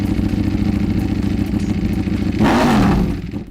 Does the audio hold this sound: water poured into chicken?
no